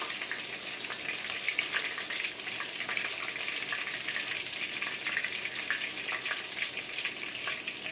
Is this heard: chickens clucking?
no